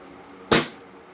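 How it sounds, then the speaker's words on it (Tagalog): A single sharp pop from a Glock 18–style airsoft gun, freshly repaired, fired once at close range and loud, fading quickly over a quiet background. "Yung putok niya parang bago na ulit."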